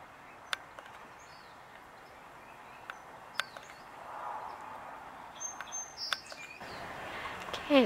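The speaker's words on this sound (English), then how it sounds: "these song sparrows are right here" Song sparrows in a California park give sparse, sharp little chirps over a quiet outdoor background, with some rustling and louder handling noise near the end.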